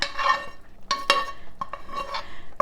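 Sliced peppers and onions are tipped into a hot pan and stirred with a utensil, giving soft sizzling and scraping with a few sharp clinks of metal against the pan, close and moderately loud.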